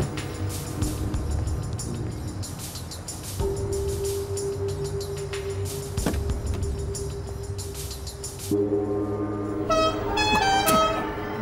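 Car horn honking over engine and traffic noise: a sustained horn blast held for several seconds, then a second long honk, loud and close with rattling underneath.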